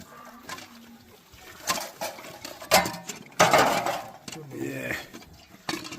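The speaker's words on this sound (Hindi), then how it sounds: "बर्तन हम करेंगे साफ।" Dishes, pots and utensils clatter and scrape as they are washed at a home during a festival puja gathering in the Uttarakhand hills, with irregular metallic clinks and knocks of varying loudness and faint voices in the background.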